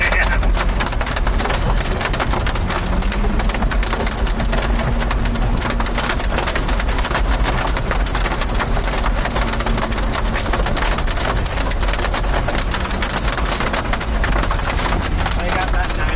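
Heavy rain and hail pound hard and continuously during a tornado chase near Maysville, a dense roar of impacts close by, with people talking over the din.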